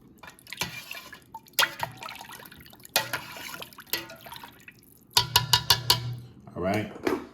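A spoon stirs onion powder into a bowl of stuffing, giving soft scrapes and drips followed by a quick run of sharp clinks against the bowl near the end.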